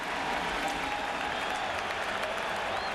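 A baseball crowd at Shea Stadium during a World Series game applauds in a steady, even roar of clapping that fills the whole stretch, distant and dense.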